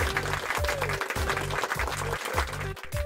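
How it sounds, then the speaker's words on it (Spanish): Applause from an audience, a brief burst of dense clapping over a few seconds with rhythmic background music running beneath it. "vamos a recibir con un fuerte aplauso a Wilhelm Conrad Röntgen."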